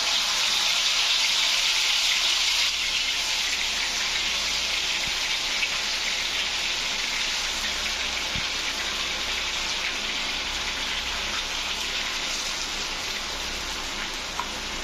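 Mutton pieces go one by one into hot oil and ghee and set off a steady loud hiss and crackle of frying that holds near and even throughout, with no voices.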